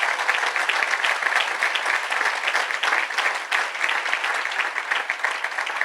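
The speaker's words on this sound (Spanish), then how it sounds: "Denle un aplauso fuerte al Señor" A church congregation claps steadily in loud, sustained applause, dense and even from start to finish with no voices rising above it.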